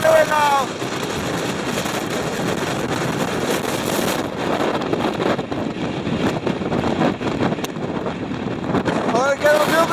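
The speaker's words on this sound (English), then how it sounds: "The wind is literally blowing down here now." Strong wind roars across a hillside outdoors, a loud steady rush buffeting the microphone for the whole stretch, with brief voice sounds near the start and end.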